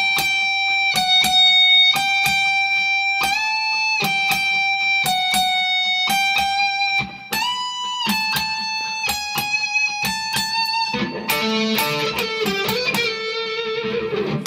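Electric guitar playing an intro solo in standard tuning, with clean, bright picked notes, bends and quick repeated phrases, ending in a denser strummed flourish, loud and alone.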